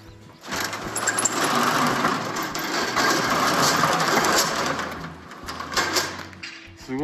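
Construction machinery works near an ostrich farm, a steady mechanical engine drone with rattling and whirring that swells and holds for several seconds before easing, fairly close and with no talking over it.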